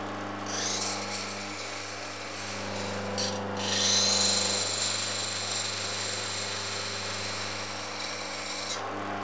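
A steady grinding rasp of a wood chisel being sharpened against a ceramic wheel on a bench grinder, with a constant motor hum beneath and slight swells in intensity, close and fairly loud, no talking.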